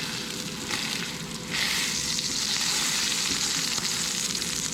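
Chicken pieces sizzle and fry steadily in a pan, a dense close crackle that swells louder partway through, with no voices.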